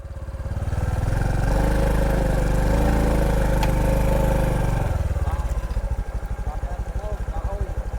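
A motorcycle engine runs loud and close, a steady drone that then drops to a lumpy, pulsing idle.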